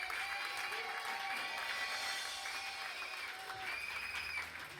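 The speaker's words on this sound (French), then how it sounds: "Acclamons le Seigneur pour ce miracle, ce témoignage. Les acclamations plus fortes." Congregation cheering and applauding at a church service after a miracle testimony, a sustained wash of distant clapping with faint voices and a few higher shouts drifting over it.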